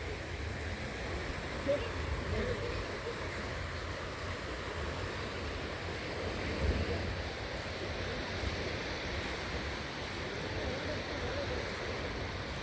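Constant rushing surf from sea waves washing over Ha Pak Nai Beach, Hong Kong, mixed with wind buffeting the microphone, steady and loud throughout.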